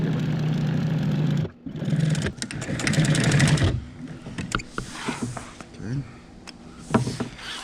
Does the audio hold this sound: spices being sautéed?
no